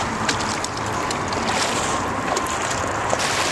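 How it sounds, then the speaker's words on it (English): Dirt and water run through a sluice box while urban prospecting in Denver, giving a steady broadband wash of rushing, splashing water with scattered gritty clicks of gravel, close and continuous throughout. "I'll try to run this through the sluice box just to see if there's anything at all in it"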